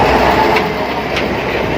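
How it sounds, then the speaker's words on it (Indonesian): A train runs along the edge of Rawa Pening on the Ambarawa–Tuntang tourist line, giving a steady, loud, broadband rumble close by with faint rail clatter and no voices. "Kereta api."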